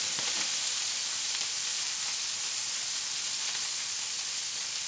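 Shrimp fry in a paella pan with a steady, dense sizzle and hiss, close and constant throughout, with no voices.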